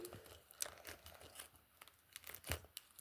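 Paper surprise packet being torn open indoors, with quiet crinkling and a few sharp tearing rips, close and alone.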